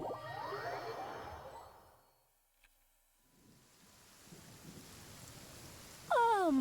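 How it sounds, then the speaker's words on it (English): Steady rain in the video game Genshin Impact, a soft hiss that thins out midway and returns, with faint game chimes early on and a bright swooping tone at the end, no talking. "I thought you were sitting here in the rain, but I guess the rain's leaving"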